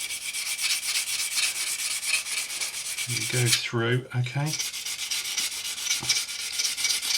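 A sanding stick rubs back and forth over a plastic model kit part in quick, steady scratchy strokes, close and continuous, with a brief spoken remark partway through.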